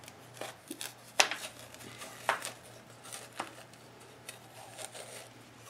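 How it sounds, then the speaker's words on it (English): A kitchen knife scrapes and cuts around the inside of a pumpkin being hollowed for roasting, giving a few sharp scraping strokes and soft taps at an uneven pace, close up, with a low steady hum underneath. "I'm going to run my knife around."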